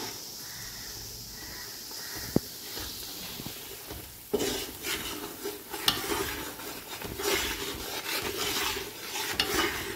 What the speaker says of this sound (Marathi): तो रवा हा कमी गॅसवर छान लालसर रंग येईपर्यंत भाजायचा आहे.